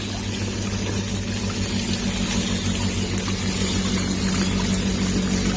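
A pump sprays water over a miniature RC tire test course for scaled rock crawlers, a steady dense rush with a low motor hum running throughout.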